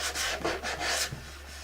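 Hand sanding on painted wood: quick, rhythmic scratchy strokes back and forth, close and steady, with no talking.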